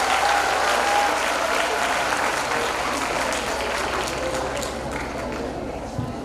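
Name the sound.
audience applause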